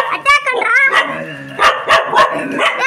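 A dog barks and yips in short, close, high-pitched bursts, several in quick succession, mixed with excited human voices nearby.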